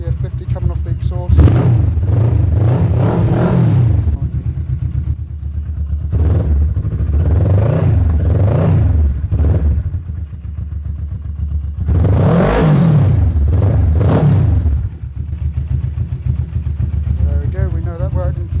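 Motorcycle engine turning over and revving in repeated bursts, loud and close, with smoke coming off the exhaust; several rising and falling revs separated by idle.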